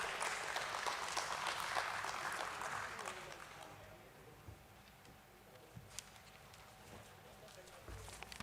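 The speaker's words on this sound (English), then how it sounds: "Let's welcome him on stage with a round of applause." An audience at a listing ceremony at the BSE stock exchange applauds to welcome a speaker on stage. The dense clapping is steady for about three seconds, then thins and fades into a quiet hall with a few stray claps.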